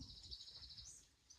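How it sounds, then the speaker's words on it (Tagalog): Faint birdsong drifts across the English countryside beside a shepherd's hut. Soft, thin chirps run continuously in the distance over a quiet background. "ang maririnig mo lang dito ay huni ng ibon."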